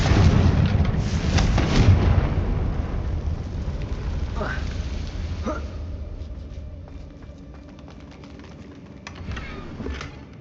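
Confringo spell blasts in Hogwarts Legacy crackle and boom amid a dense, noisy battle mix, with a couple of sharp bursts in the middle and fainter pops trailing off toward the end.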